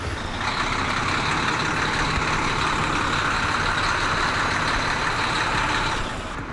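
A large tow truck arrives at a flood-damaged Mercedes-AMG GT, its loud diesel engine rumbling steadily with a continuous hiss, close by and alone for the whole stretch before fading slightly at the end.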